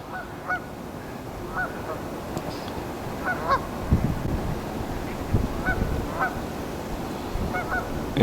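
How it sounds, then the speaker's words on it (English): A large flock of wintering geese honks continuously, the calls overlapping in a steady, moderately distant chorus with no talking over it. "There's never too many mallards that stick around, but there's thousands of geese."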